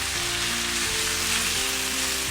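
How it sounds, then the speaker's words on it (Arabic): Chicken browning in oil with onion and spices, a loud, even, close-up sizzle that crackles without pause through the whole brief moment. "نخلي الدجاج يطلق البنه تاعو يتحمر شويه مع البصل"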